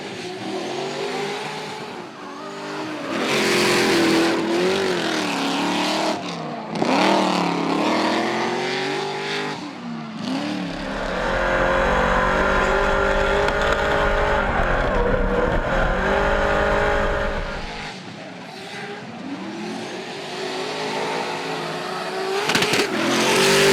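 Hi-Tec Drift Allstars drift race cars rev hard and race around a circuit, engines roaring loud and close with rising and falling revs, a sustained full-throttle blast in the middle and occasional tire squeal.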